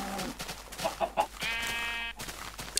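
Minecraft video game chicken giving short clucks, then a longer bleat-like call, fairly close and moderately quiet, with no talk.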